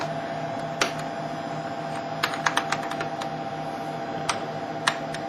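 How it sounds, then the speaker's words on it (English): Keystrokes on the keyboard of a Xerox 860 IPS information processing system, scattered taps in short irregular runs over a steady electrical hum, close and crisp. "He's putting in text into the document."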